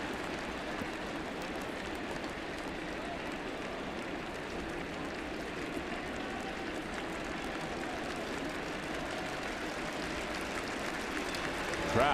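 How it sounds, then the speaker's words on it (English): A baseball stadium crowd cheers and roars to rally a pitcher out of a jam after back-to-back walks, a steady, dense wall of noise that holds throughout and swells slightly at the very end. "Crowd trying to help Biagini out a little bit, help him out of this jam."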